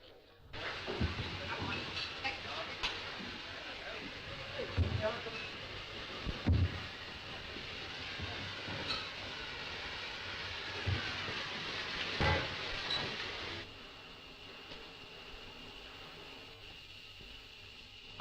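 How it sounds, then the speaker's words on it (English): A train departing through a tunnel rumbles and hisses steadily, with a few sharp clanks and metallic screeches, then the noise drops away abruptly near the end. "The trains are waiting to take you down now."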